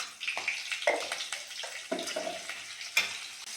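Turmeric, green chilli and black cumin hit hot oil, giving a crackling sizzle broken by sharp clinks and scrapes of a spoon against the pan, with no one talking.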